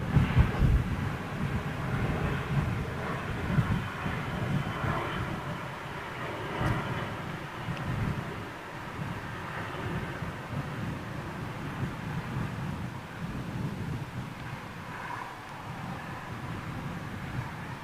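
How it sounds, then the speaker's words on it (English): An Airbus Beluga cargo jet powered by CF6 engines roars past, a steady, loud, broadband rumble that swells slightly and then holds, heard outdoors with no voices. "CF6 power, of course, on the old Beluga"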